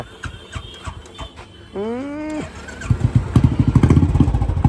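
Motorcycle engine running in a village setting, a steady rising drone joined by rapid, loud low putters that grow stronger toward the end, with no talk over it.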